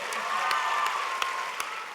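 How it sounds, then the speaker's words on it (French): An audience claps steadily through a dense, even patter at a high school graduation ceremony, moderately loud, with a few louder single claps standing out near the end. "merci d'applaudir nos maîtresses et maîtres de cérémonie, Madame Nadine Razana-Manjant et Monsieur Je"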